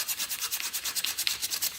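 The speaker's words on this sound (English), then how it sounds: "we're just going to sand that around like so" Hand sanding around the edge of a scroll saw workpiece, a fast rhythmic rasp of strokes back and forth, close and fairly quiet, with no talk.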